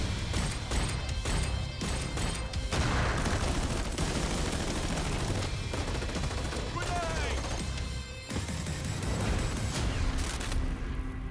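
Dense gunfire from the Crossfire VR shooter game, rapid automatic bursts and heavy booms in a continuous loud barrage, with a voice talking over it.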